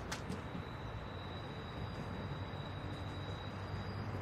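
A moving train in The Walking Dead: Season 1 Episode 3 video game gives a steady, continuous rumble with a sharp click near the start, and no one speaks.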